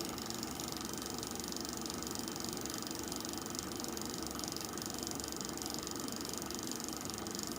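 A steady mechanical whir and faint rattling from an ultra low RPM generator turning at about 51 volts, quiet and unchanging throughout, with no speech.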